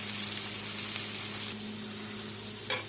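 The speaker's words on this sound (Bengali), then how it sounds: "আলুটা এখন ভাজতে দেবো" Potato pieces frying in oil with salt and turmeric, giving a steady close sizzle over a faint low hum, with one brief brighter crackle near the end.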